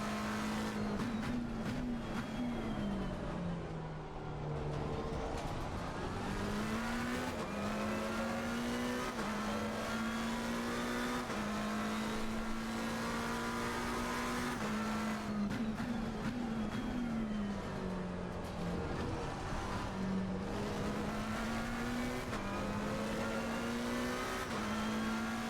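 Race car engine in the LFM online racing game, a loud continuous whine that climbs in pitch and drops sharply at repeated gear shifts, running steadily for the whole stretch with no talking.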